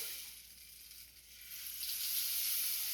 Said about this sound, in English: Another instrument that you can play is a rain stick.